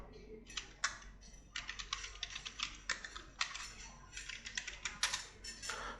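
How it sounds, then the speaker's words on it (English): Password being typed on a computer keyboard during a Red Hat Linux administration session: steady bursts of close, crisp keystrokes in quick irregular runs across the whole stretch, with no talking. "So now let me type the current password."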